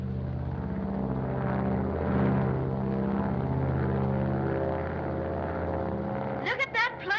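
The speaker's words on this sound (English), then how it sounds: "Look at that plane climb." Steady droning propeller engine of a radio-controlled airplane climbing in an old film, a loud continuous hum with slowly shifting pitch, and a voice speaking briefly at the end.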